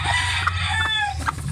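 A hen with two newly hatched chicks clucks close by, several short, sharp calls in quick succession with faint peeping over a low background hum.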